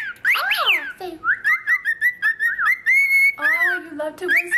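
A pet bird whistles a run of clear, loud, close warbling notes, some rising and falling, others quick repeated chirps, with no talking over them.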